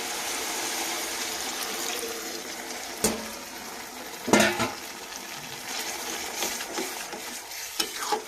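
Water goes into a hot pan of chili chicken sauce made with chicken liver and gizzard and sugar, giving a continuous low sizzle broken by a few sharp splashes and clinks close by.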